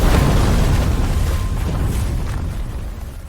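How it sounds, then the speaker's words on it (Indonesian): A bomb explodes in an action film, with a loud, sustained booming roar dominated by deep rumble that slowly fades over a few seconds, with no voices. "saat bom itu meledak"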